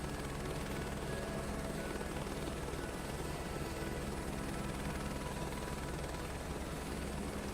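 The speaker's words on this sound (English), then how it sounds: "Typically a helicopter taxi would be a little bit slower than this" Helicopter taxiing slowly along the ground in Microsoft Flight Simulator 2024, a steady, loud rotor and turbine drone that holds constant throughout with no voices.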